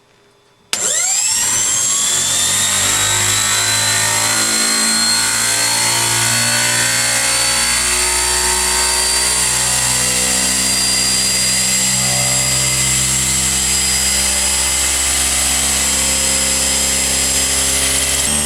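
A universal series motor spins up on a dynamometer to just over 4,000 RPM, starting abruptly and then whining loudly and continuously, with rising and shifting tonal harmonics over a steady roar.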